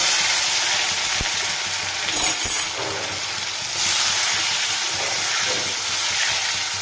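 Tomatoes and spices fry in a pan, giving a loud, continuous hiss and sizzle that flares in bursts as the food is stirred, with a few sharp clinks of utensils and no talking.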